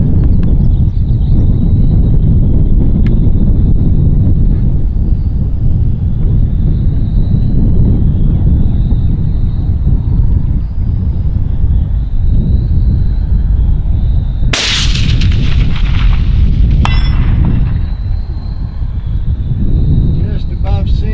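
A Ruger Precision Rifle in .243 Win fires one sharp crack at a 600-yard steel target, with a possible second faint report moments later, over steady outdoor wind rumble.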